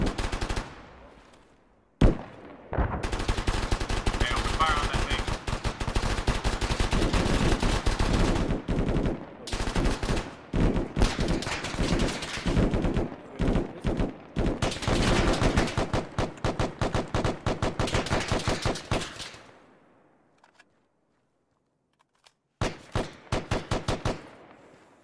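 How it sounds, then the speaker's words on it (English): Heavy gunfire in the Arma military shooter, dense sustained automatic bursts and rapid shots that go on for most of the stretch, then a brief silence before a final loud burst. "open fire on that thing"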